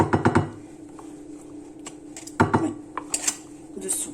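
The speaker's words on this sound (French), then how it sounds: "je racle le fond du pot" Metal spoon clinking and scraping against a pot holding minced meat, a quick cluster of sharp clatters at the start, then scattered scrapes and taps, close and moderately loud.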